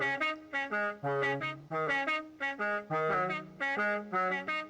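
A car horn from the Forza Horizon 5 racing game, set on a Toyota Sera, plays a bright melodic tune of short punchy notes in a quick rhythmic pattern, loud and alone.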